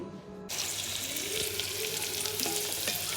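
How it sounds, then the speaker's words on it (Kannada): Cumin and pepper hit hot ghee in a pressure cooker for khichdi, a sudden sizzle bursting in after a brief quiet start and then crackling steadily and close, with faint stirring clinks. "ತುಪ್ಪದಾಗ ಜೀರಾ ಮತ್ತು ಮೆಣಸು ಹಾಕಿ ಒಂದು ಸ್ವಲ್ಪ ಫ್ರೈ ಮಾಡಿಕೊಂಡೆ"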